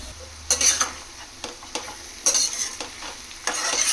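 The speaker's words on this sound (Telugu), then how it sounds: "ఇలా ఒక్క నిమిషం వేయించుకుంటే బాగుండిద్దని వేస్తాను" Grated mango and carrot fry in oil in a pan for a lunch-box pulihora, with a soft sizzle underneath. Several sharp scraping stirs of a spoon against the pan come in irregular strokes, close, and no one talks.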